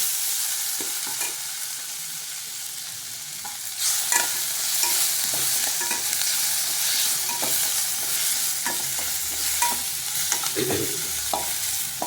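Tomato and onion sautéed in a pan for a vendakkai pachadi make a steady, close sizzle, broken by repeated scraping and clacking as a spoon stirs the mixture, with no voices.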